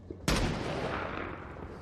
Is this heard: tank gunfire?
yes